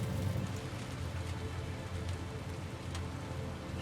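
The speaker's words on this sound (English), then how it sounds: "So she probably has her own little specialized rain." Steady rainfall in Death Stranding 2: On The Beach pours down without pause, a dense, even hiss of drops on surfaces with a low rumbling bed beneath, close and continuous, no voices.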